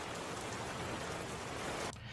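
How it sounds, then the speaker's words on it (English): Steady outdoor rain recorded as a sound effect for a Jurassic Park scene: a dense, even hiss of drops falling close and loud, cut off sharply near the end with no talk. "So here is the outside rain that I did."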